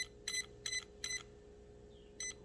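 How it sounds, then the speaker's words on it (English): A Traxxas electronic speed controller on an RC truck gives four short, evenly spaced beeps while its button is held down, then a fifth after a pause. The beeps are clear and close against a quiet background hum. "when you hold this button, you'll hear it beep"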